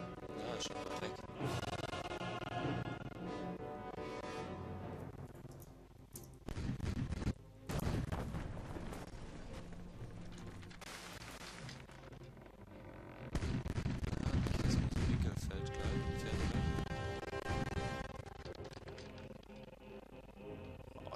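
Ship cannons firing in the pirate naval game Age of Pirates: Caribbean Tales, a series of loud booming blasts and crashes in irregular bursts with rumbling decay between shots, heavier volleys near the end.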